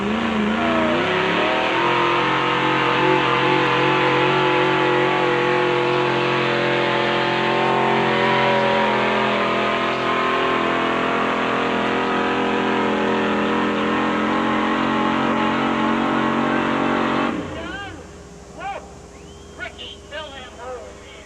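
The Wiley's Twister monster truck roars on the track, its engine revving hard and loud with swooping rises and falls in pitch for about seventeen seconds, then cutting off to scattered quieter noises while an announcer talks.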